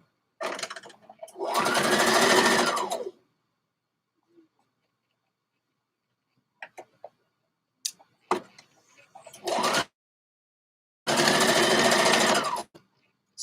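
A sewing machine stitches fabric in short bursts during pattern drafting work, two dense whirring runs of rapid stitching separated by quiet handling clicks and a brief burst between, close and clear.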